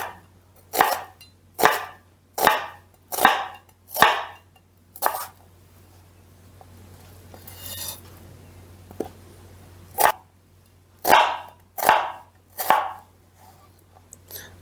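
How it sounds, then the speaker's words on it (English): Onions sliced with a knife on a board in a home kitchen: sharp, evenly spaced chops in two bursts, about six strikes, then a pause and five more, close and loud with no talking. "I'm just gonna slice the onions the way I sliced the last ones."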